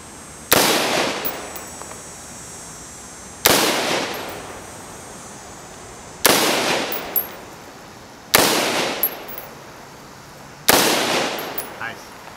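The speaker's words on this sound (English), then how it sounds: "You can stay aimed in and keep shooting if you like." Five loud, close gunshots ring out at shooting practice, spaced roughly two to three seconds apart, each with a sharp crack and a decaying echo tail across an open range.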